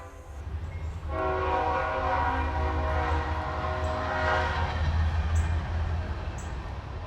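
A train draws near inside an abandoned orphanage building, its loud horn sounding a sustained multi-tone chord over a heavy low rumble. The blast holds for several seconds and then fades while the rolling rumble swells.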